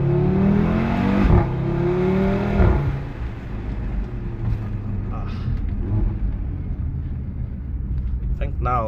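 A 2017 Audi RS3 8V2 with a 400 hp engine and S-tronic gearbox, heard from inside as it accelerates, a loud rising engine note that drops at a gear change and continues as a lower rumble while someone talks over it.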